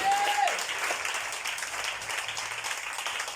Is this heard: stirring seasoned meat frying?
no